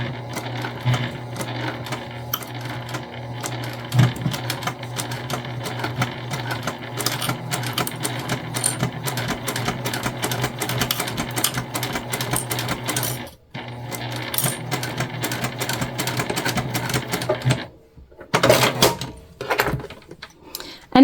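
A sewing machine stitches a cotton key fob wallet in steady rapid runs of needle clatter, close and loud, pausing briefly twice before resuming.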